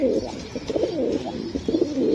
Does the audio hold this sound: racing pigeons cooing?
yes